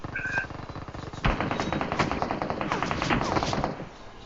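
Rapid bursts of automatic gunfire from an AK rifle ring out in PUBG Mobile around Rozhok, a brief lull followed by a loud, sustained volley that fades near the end.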